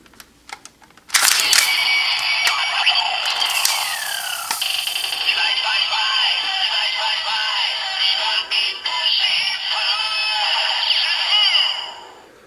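A burst of bright electronic toy chimes and whirring effects from a Kamen Rider Zi-O DX Geiz Revive Ride Watch plays continuously for about ten seconds, loud and close, with warbling tones layered over a buzzy hum.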